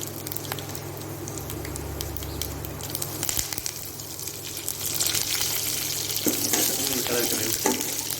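Curry leaves and dried red chillies frying in hot oil for South Indian carrot rice, a steady sizzling crackle that grows louder and brighter partway through, with a low hum beneath.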